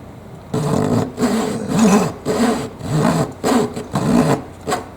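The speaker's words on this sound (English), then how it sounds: "See, listen to this. This is the hardwood." A Zona 24TPI Japanese razor-style pull saw cuts through hardwood in steady, rhythmic rasping strokes, about eight close, fairly loud pulls with brief gaps between them.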